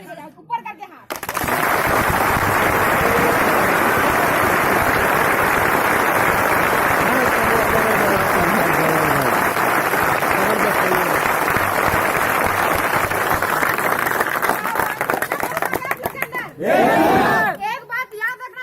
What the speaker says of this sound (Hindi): जोर से ऊपर से हाथ ताली बजाओ, ऊपर करके हाथ